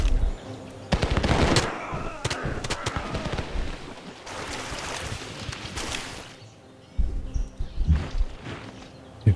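Rifleman units firing in the Civilization V strategy game: dense bursts of crackling gunfire and rattling volleys, loud and close, with a lull and then a final clatter of shots.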